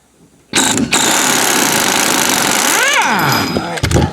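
An air impact wrench undoes the 15 mm top nut of a 2001 Buick Park Avenue rear shock, a loud continuous rattling hammer lasting about three seconds with a whining pitch swing near its end, then a few short bursts.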